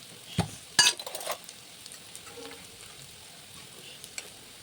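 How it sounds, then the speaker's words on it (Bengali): Onions sizzle gently in a frying pan ahead of garlic paste and chopped tomato, with a few sharp metallic clinks and scrapes of a utensil against the pan over a soft, steady frying hiss. "পেঁয়াজগুলো এবার ভাজা ভাজা করে নেব"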